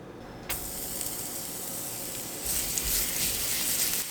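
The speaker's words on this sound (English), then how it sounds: "I'm going to add some garlic, and then I'm going to start topping off with the spinach and cooking that down" Garlic and spinach sautéing in olive oil in a hot pan give a steady close sizzle, which jumps to a louder, brighter hiss partway through as more greens hit the oil.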